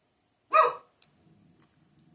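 A single sharp dog bark, fairly close, followed by a couple of fainter short yips and low background rumble.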